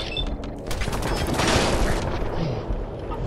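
Rapid turret gunfire from the game Fallout 4, a dense continuous burst of shots with explosive booms peaking midway, loud and near, with a voice talking over parts of it.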